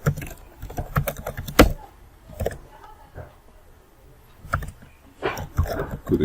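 Someone types a command on a computer keyboard, producing quick close clusters of key clicks in two bursts separated by a quiet pause.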